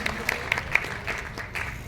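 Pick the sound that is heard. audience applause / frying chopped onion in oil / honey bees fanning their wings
audience applause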